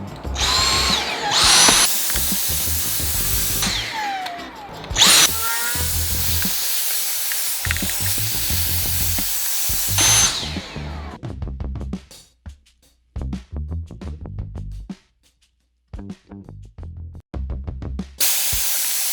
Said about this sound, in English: I'm gonna grab my vacuum and then clean everything.